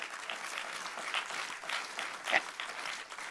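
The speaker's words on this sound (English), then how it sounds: "Yeah, he's clapping." One person clapping at an indoor gathering, quiet but steady claps in irregular rhythm with some faint background noise.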